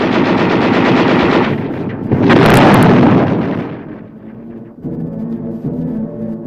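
Vietnam War combat gunfire from a 1969 US Army documentary on the 11th Armored Cavalry Regiment: loud sustained bursts of machine-gun fire with heavy blasts, fading to a lower rumble toward the end.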